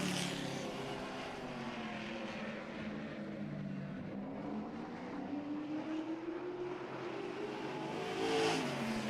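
Race cars on a racetrack accelerate through a turn at a season opener, engines heard at a distance rising and falling in pitch as they sweep past, a continuous roar with a swell near the end.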